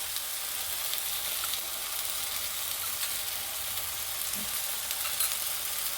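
Brinjal slices frying in oil on a flat tawa give a steady, even sizzle that stays close and constant throughout, with no voices.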